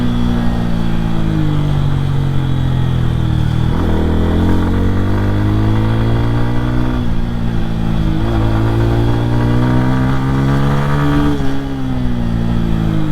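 A Bajaj Pulsar N160 motorcycle with a 160cc engine hums steadily and loudly while being ridden. Its pitch rises, drops at several gear shifts, and climbs again, with no talk over it.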